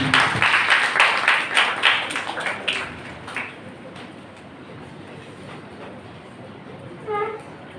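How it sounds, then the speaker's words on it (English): Audience applause at an international seminar hall at a training college, a dense burst of many hands clapping that is strongest at first and fades away within a few seconds into quiet room tone. "A big round of applause for him."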